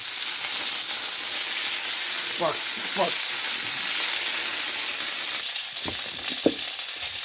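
Steady loud sizzling of food frying in a pan, a constant hiss throughout, with a few short spoken words breaking in near the middle and end.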